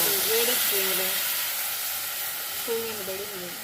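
Steady loud hiss and crackle of a high flame in a wood-fired stove, cooking a tamarind-based chutney, continuous and close, with brief voices talking under it.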